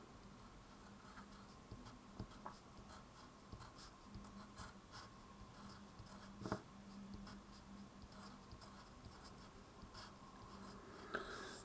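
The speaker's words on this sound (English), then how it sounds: "Write down your curve." Pen or pencil writing out a curve equation by hand for a maths problem on tangents and normals, a steady faint scratching with light taps, close and alone without talk.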